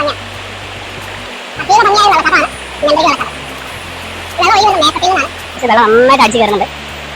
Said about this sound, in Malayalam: നല്ല രസം നല്ല അടിപൊളി വെള്ളച്ചാട്ടം